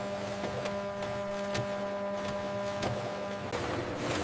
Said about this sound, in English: The printer begins to print the currency notes on the paper with extreme precision.